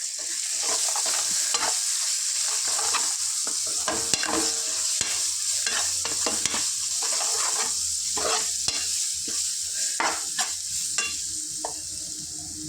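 Ginger garlic paste and turmeric fry in hot oil for an egg curry, a steady sizzle with repeated scraping and stirring clicks of a spoon in the pan, close and continuous with no talking.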